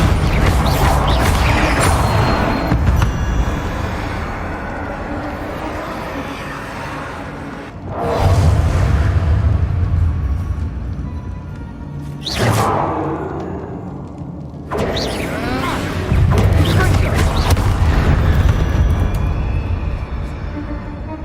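Bombarda spell explosions in the video game Hogwarts Legacy burst out as loud, heavy crashes and thuds, several blasts spread across a dense, continuous game soundscape.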